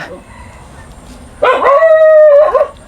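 A dog gives a loud, drawn-out howling bark that starts halfway through and holds a wavering tone for about a second before it breaks off, following a quieter stretch of outdoor background.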